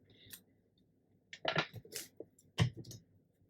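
A few quick snips of scissors cutting a vintage paper page from an old document, crisp close clicks and rustles grouped in short bursts with quiet pauses between, no talking.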